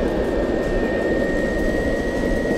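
A DIY electric skateboard runs at full throttle near its top speed of about 16 mph, giving a steady, loud rushing roar with a thin constant whine running through it, with no talking.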